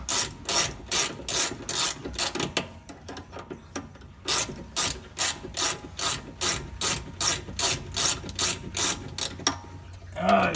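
A ratchet turning a loose shock bolt on a car's strange engineering shock install: steady, loud, close clicking strokes in a regular back-and-forth rhythm, with a brief pause midway and no talking.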